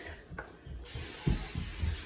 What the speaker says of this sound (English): And I'm gonna spray this with my handy dandy Pam.